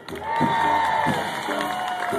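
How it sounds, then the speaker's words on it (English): A live jazz audience at a Winard Harper Septet show cheers and applauds as a band member is introduced, a steady crowd roar with whoops and shouts that swells after a quiet start and holds for about two seconds. "Wonderful, wonderful round of applause."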